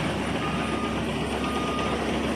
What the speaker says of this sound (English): They're moving a fucking tractor right now.